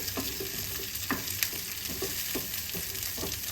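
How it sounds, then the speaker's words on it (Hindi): Curry leaves crackle and sizzle in hot oil for a tempering, a steady frying hiss broken by repeated sharp pops and spatters, close up. "अब कड़ी पत्ता को भी अच्छी तरह से चटका लें।"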